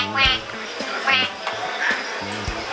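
A person imitates duck quacks to call ducks by a lake while out fishing, giving three or four loud nasal quacking bursts in an uneven rhythm, close to the listener.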